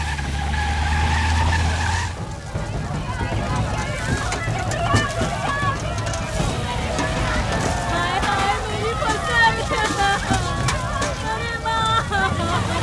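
A vehicle skids to a halt beside a sugarcane field set ablaze, with a loud screech at the very start, then dramatic music and raised voices carrying on throughout.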